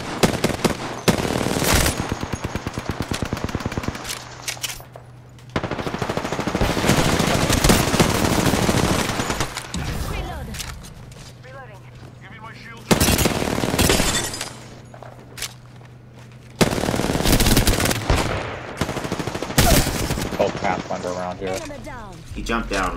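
Rapid automatic gunfire from the video game Apex Legends comes in loud repeated bursts, with short pauses between volleys, and game voices talk over and between the shooting.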